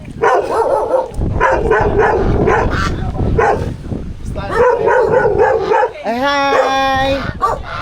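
A large dog barks loudly and repeatedly up close during heavy rain and wind, ending in a high, drawn-out whine.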